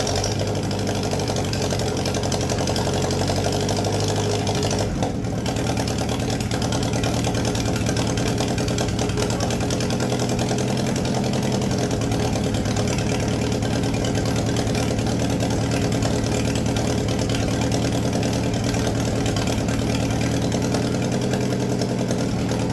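An old, once-seized tractor engine running after being started, with a loud, steady, rough mid-pitched idle that rumbles on without a break and has a slight knock, close by, with no talking.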